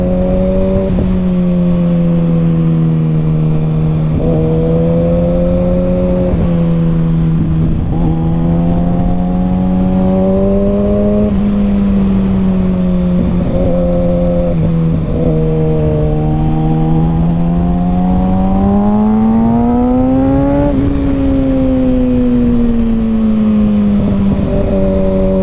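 A 2021 Kawasaki Ninja ZX6R KRT Edition with a Carbon M4 Street Slayer exhaust idles close and loud, its steady throbbing tone rising and falling through a series of mild revs over about 25 seconds.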